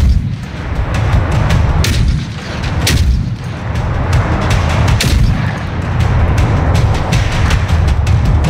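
Repeated gunshots from the survival shooter Generation Zero, loud booming reports scattered irregularly over a dense rumbling backdrop, several sharp cracks standing out among the din with no talking.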